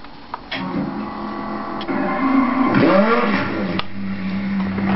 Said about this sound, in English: now that we have started the engine